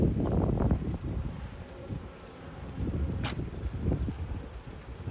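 Close, continuous buzzing of many honey bees, a low droning hum that rises and falls, with light wind rustle.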